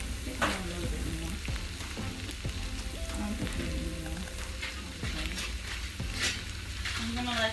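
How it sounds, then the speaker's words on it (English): Onions sauté on low heat in a pan ahead of Libby's corned beef hash, giving a soft, continuous sizzle with occasional stirring clicks and faint tonal sounds in the background. "I'm gonna let them fry. Let them cook."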